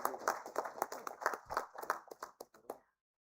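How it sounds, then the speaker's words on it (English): A small conference audience gives a short round of hand clapping, fairly close and distinct, thinning out into a few scattered claps before stopping after about three seconds. "Maybe we can have a huge round of applause"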